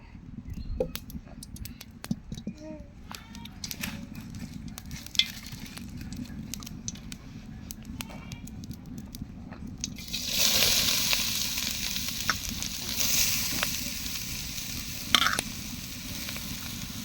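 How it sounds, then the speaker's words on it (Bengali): Grated coconut frying in soybean oil, starting as a low, rumbling sizzle with scattered clicks of a utensil, then swelling into a louder, brighter hiss partway through as the frying intensifies. "নারকেল ভেজে নিবে। নারকেল ভাজি।"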